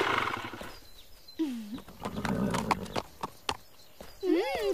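A horse neighs and whinnies close by over rhythmic hoofbeats at a slow canter, with a human voice mixed in.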